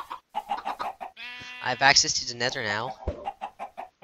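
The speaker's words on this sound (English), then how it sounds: "At least I have plenty of these chickens." Minecraft chickens cluck in a busy run of short, rhythmic calls, with someone talking over and around them throughout.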